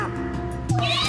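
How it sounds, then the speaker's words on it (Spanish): Cartoon cat meowing in the Luigi's Mansion 3 video game, a short nasal meow rising near the end over steady game music, while someone talks excitedly over it. "¡Ay, qué gatito tan rencoroso"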